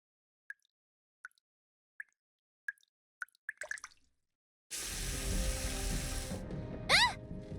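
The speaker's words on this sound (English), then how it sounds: "Water's coming from the ceiling!" Water drips from the ceiling in the video game Nikke, with several separate plops at steady intervals then a quick cluster. A loud rushing, hissing pour follows, with a rising whistle-like tone near the end.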